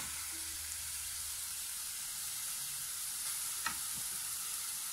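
Minced beef with salt frying in a pan still coated with sausage drippings, a soft, steady sizzle under a constant hiss, with a faint stir or tap near the end.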